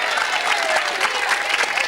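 A studio audience applauds on a TV talk show, a dense, steady wash of many hands clapping at even loudness from start to finish, with faint voices mixed underneath.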